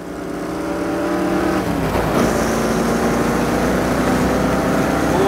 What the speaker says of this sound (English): A Shelby Mustang. An absolutely awesome supercar.